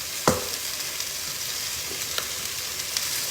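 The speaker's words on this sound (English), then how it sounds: "Pretty simple, regular old fried potatoes. That might be kind of loud, huh?" Regular fried potatoes with onion, salt and pepper cook in oil in a pan, giving a steady soft sizzle with a few sharp pops and crackles of stirring close by, with no one talking.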